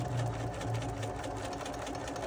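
A sewing machine runs steadily at slow speed, stitching a quilted pillow, giving a continuous close mechanical whir with a faint rhythmic knock.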